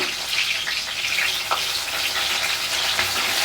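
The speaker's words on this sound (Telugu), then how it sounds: "ఇప్పుడు పచ్చిమిరపకాయలు వేసుకున్నాం కాబట్టి ఒకసారి కలిపేసుకుంటున్నాము అలాగే దీంట్లోకి మనం కరివేపాకు వేసుకుందాము" Green chillies and curry leaves fry in hot oil for a cauliflower gravy curry, giving a continuous close sizzle with light stirring scrapes and no voices.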